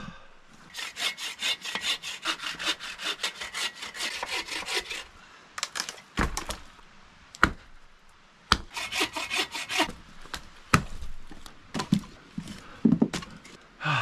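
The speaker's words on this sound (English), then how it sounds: "cutting firewood will keep me warm" A hand saw cuts through a wet firewood log in steady back-and-forth strokes, close and raspy, broken by a few pauses and sharp knocks.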